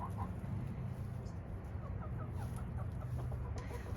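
Hens that have just been fed mealworms, corn, scratch grain and a little cheese keep up a low, busy clucking, close and continuous, with scattered higher calls over a steady outdoor background.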